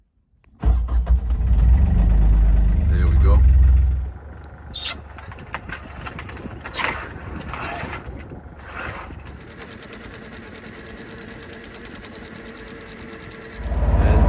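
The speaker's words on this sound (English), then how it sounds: "I actually have to motor upwind through a pretty narrow channel" The motor of a 9-metre sailboat runs loudly with a steady mechanical chatter, then settles into a quieter continuous hum; someone speaks briefly over it.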